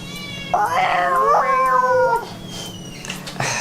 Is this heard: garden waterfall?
no